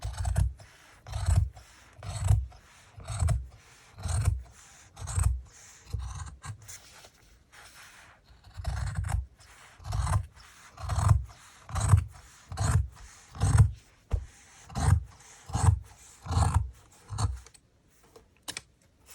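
Material for a junk journal soft cover being cut, heard as a steady series of close, crisp snipping or cutting strokes in an even rhythm, with a short pause midway and no talking.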